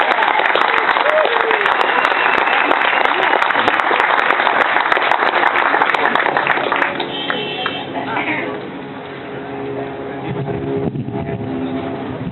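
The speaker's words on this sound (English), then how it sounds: "So let's please welcome and give him a great applause" Crowd applause at a Tax Day Tea Party rally in Rockland County, New York: loud, dense clapping fills the first seven seconds, then thins out and gives way to scattered claps, murmuring and a voice beginning to speak.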